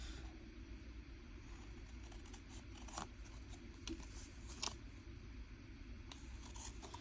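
Scissors cutting paper while making an altered envelope, with a few quiet snips and soft rustles close by and no talking.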